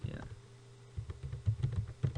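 Computer keyboard typing while a macro name is entered in spreadsheet software, as a quick run of light, irregular key clicks close to the microphone.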